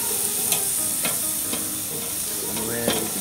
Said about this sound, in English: we'll cover one side of the tuna that's facing up with the sauce, and we'll go ahead and flip it